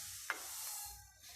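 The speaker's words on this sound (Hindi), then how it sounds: "इसको चम्मच के साथ मिक्स कर लेंगे।" A spoon stirs sugar into hot milk in a pot, one sharp scrape of metal against the pan followed by a soft, steady swirling with a faint sizzle-like hiss, close and quiet with no talk.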